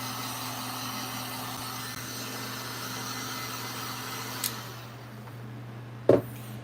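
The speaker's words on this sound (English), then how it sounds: "I sand the toe box and all sections that have leather" Continuous abrasive sanding of the leather toe box on a Nike Dunk Low shoe, a steady scratchy hiss over a low motor hum, ending with a brief knock.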